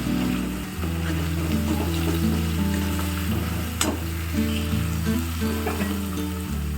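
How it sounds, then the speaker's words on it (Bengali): Spice paste with turmeric and green chilli frying in a pan, a dense continuous sizzle with stirring scrapes and one sharp clink, close and steady throughout with no voice. "মশলাটা দিয়ে নিচ্ছি, এবার ভালো করে কষাবো"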